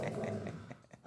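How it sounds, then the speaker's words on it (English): A pet dog growls and grumbles at a toy at close range, a low, rough, uneven rumble with a few brief breaks. "my dog's getting upset at a toy"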